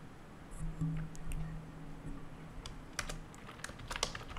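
Soft typing on a computer keyboard while writing React code, with scattered quiet keystrokes that build into a denser run of taps and clicks toward the end, fairly faint and with no speech.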